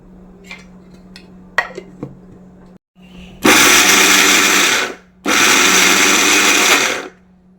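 Green chillies and cumin seeds are coarsely crushed for a Kerala-style jackfruit seed and snake gourd thoran. A small motor grinder whirs loudly in two sustained pulses of about a second and a half each, after some faint clinks.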